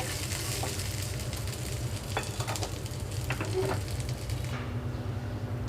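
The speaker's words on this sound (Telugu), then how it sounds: "ఈ లోపల టమాటో వేయించేసుకుంటున్నాను" Tomatoes fry in a little oil for a chutney, giving a steady close sizzle with a few light scrapes of a spatula through it.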